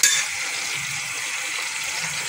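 Potato pieces cut fairly thick fry in a pan with a steady, close hissing sizzle that holds throughout, with no voices.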